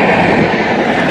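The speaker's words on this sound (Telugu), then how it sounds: "ఏదో ట్రైన్ ఏదో ఓవర్టేక్ చేస్తుందండి. సూపర్ ఫాస్ట్ ట్రైన్ మరి ఫ్లాట్ 130 km/h వెళ్ళిపోతుందండి ట్రైన్ అయితే." A superfast express train thunders past at about 130 km/h, a loud, dense continuous roar of wheels and rushing air very close by.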